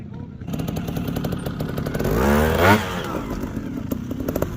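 A dirt motorcycle crossing a log, its engine idling with a steady clatter before a single sharp rev rises and falls, followed by a return to a rough idle, close by.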